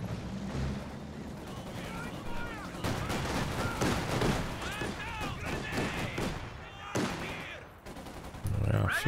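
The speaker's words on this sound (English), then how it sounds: "flak half track getting some damage done, super long range there" Flak half-track anti-aircraft gunfire in the strategy video game Company of Heroes 2 rattles in rapid bursts, mixed with other battle explosions and a commentator talking over the action.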